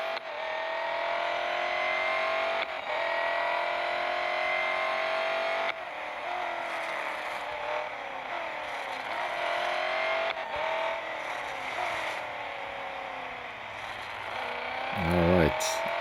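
Race car engine in a video game, lapping a track with a loud sustained drone that rises in pitch through the gears and drops sharply at each shift, with a person talking over it.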